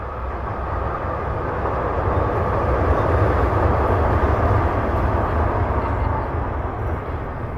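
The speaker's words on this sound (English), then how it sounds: "Another train. Hold on." A train rumbles past nearby, a loud, continuous low roar holding steady across the whole stretch and easing only slightly toward the end.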